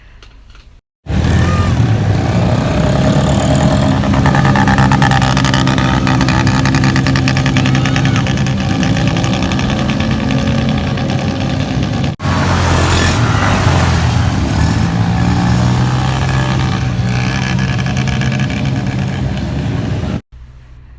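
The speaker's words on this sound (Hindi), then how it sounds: "ये अभी मैं चला रही हूँ बाइक" A motorcycle engine runs steadily at close range, a loud continuous rumble with a brief dip midway, then cuts off at the end.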